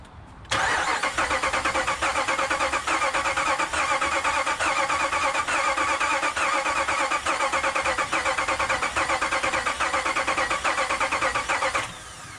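A 2016 Ram truck's starter cranks steadily through a relay bypass, a sustained rhythmic churning that runs loud and close for about eleven seconds without the engine catching, then cuts off.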